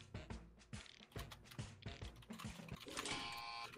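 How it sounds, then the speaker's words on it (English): Fast typing on a computer keyboard: rapid, irregular key clicks close to the mic, rising to a dense burst of clattering near the end. "I heard the furious so typing."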